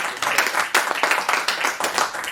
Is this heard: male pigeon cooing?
no